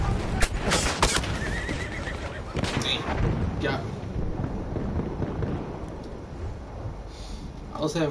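A horse neighs in the video game Battlefield 1, set amid gunfire and battle noise, with a loud burst of shots and impacts near the start and a steady wash of combat sound after.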